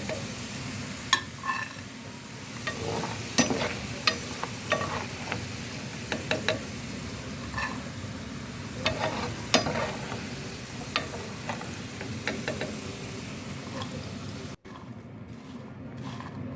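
Potatoes sizzle steadily in hot oil in a frying pan throughout, with occasional scrapes and clicks of a utensil stirring the pan nearby.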